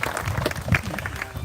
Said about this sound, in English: let's give Madison and Melissa Hernandez a big round of applause